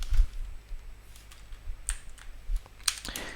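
Typing on a computer keyboard while coding, with scattered quiet key clicks in short irregular bursts, fairly close and soft over a low background hum.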